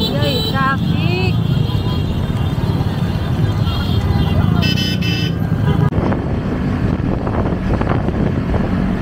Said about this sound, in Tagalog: Yay, traffic.